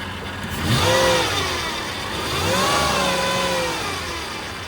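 A flood-damaged Cadillac DTS limousine's engine runs steadily, with two rising and falling swells in pitch as it revs, close by and fairly loud, no voices.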